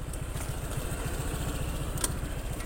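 Honda PCX 150 scooter engine revved with the rear wheel spinning freely off the ground, a steady close mechanical drone with a rapid low pulse and no speech.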